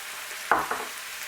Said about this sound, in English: Mix everything up until your meat changes color from pink to brown.